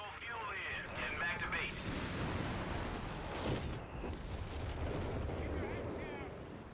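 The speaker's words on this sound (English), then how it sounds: "creeping barrage here" A creeping artillery barrage in a real-time strategy battle, with heavy booms and rumbling impacts rolling on without pause beneath a commentator's voice.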